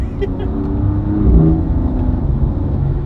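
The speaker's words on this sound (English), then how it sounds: "you get so much induction noise" BMW M4 with an S55 engine and carbon fibre intakes revving, a steady loud engine roar that swells briefly mid-clip, with talking over it.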